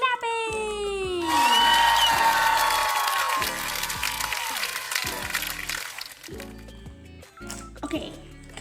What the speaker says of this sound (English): Now it's time for clapping.